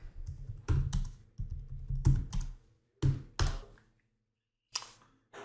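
Close keystrokes on a computer keyboard as a command is typed into mesh-generation software, coming in short bursts of rapid clicks separated by brief pauses, with a few isolated key presses and a firmer final keystroke at the end.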